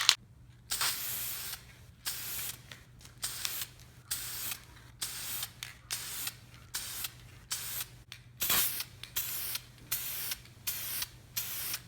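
Repeated short hissing bursts of VHT Night Shades translucent tint paint sprayed from an aerosol can onto a BMW E90 tail light, a dozen or so quick passes with brief pauses between.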